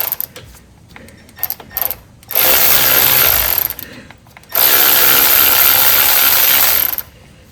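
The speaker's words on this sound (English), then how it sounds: "now I'm just going to loosen it with this Milwaukee M12" A Milwaukee M12 cordless electric wrench loosens a front brake bolt on a 2014–2019 Toyota Corolla, close and loud, with a few short clicks and then two sustained runs of rattling hammering.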